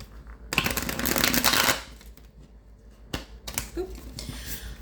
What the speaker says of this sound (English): get these cards a little shuffle.